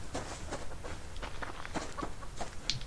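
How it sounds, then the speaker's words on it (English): Chickens cluck in the survival video game Subsistence, a pair of birds giving short, scattered clucks at a moderate distance over a steady low ambient background. "2 chickens."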